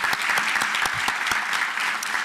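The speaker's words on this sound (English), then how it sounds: "Let's give these folks a round of applause." Steady applause from an audience at a community kickoff event, honoring committee members who stand; sharp overlapping claps sustain evenly and loudly throughout, with no talking.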